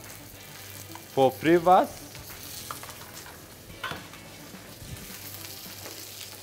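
Butter sizzling in a frying pan while a chef cooks beef tagliata, a steady close crackle under brief talk, with scattered stirring clatter.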